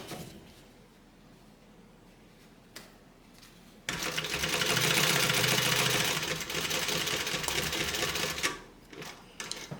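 A sewing machine stitches a welt zippered bag pocket, starting after a few quiet handling sounds and running as a steady, close mechanical whir for about five seconds before slowing and stopping.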